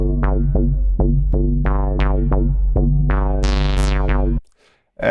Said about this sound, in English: I'm using this preset from the factory library called Dual Band Bass Mojo